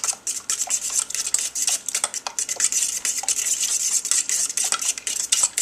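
A fork mixes ingredients in a metal pot with quick, continuous scraping and clinking strokes, close up and busy, in a fairly even rhythm and with no one speaking.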